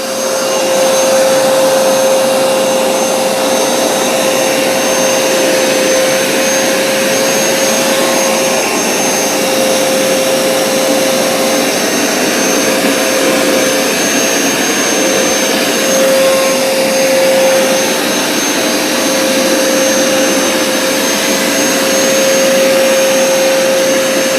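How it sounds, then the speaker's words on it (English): A Hoover SmartWash carpet cleaner runs continuously and loudly as it cleans grape juice from carpet, with a steady motor whine and suction roar and no talking. "so this Hoover has done a pretty good job, I have to say, at getting out that grape juice"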